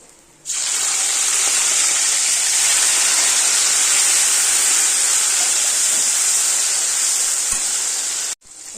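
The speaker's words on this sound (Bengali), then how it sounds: "এই আলু ভাজার তেলের মধ্যে চিংড়ি মাছগুলো একটু ভেজে নেবো হালকা করে" A loud, continuous hiss of prawns frying in hot oil, steady for several seconds before cutting off abruptly.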